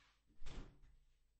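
A single soft wooden door thud in the Minecraft video game, faint and brief, rising quickly and fading over about a second.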